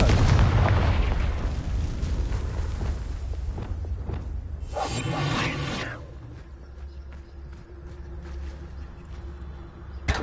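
Confringo fire-blast spells go off in Hogwarts Legacy gameplay, heavy booming blasts with a bright crackling burst midway, then a lower rumbling tail fading into quieter game ambience.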